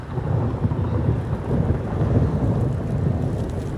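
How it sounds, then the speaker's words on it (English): Thunder rolls through a Nebraska thunderstorm after cloud-to-cloud lightning: a loud, continuous low rumble that swells and stays steady for several seconds, with no voices. "Hear that thunder?"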